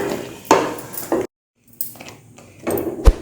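A spoon stirs thick mango jam in a cooking pot, making short scraping clatters and metallic clinks in bursts, broken by a brief silent pause and ending with a sharper knock against the pot.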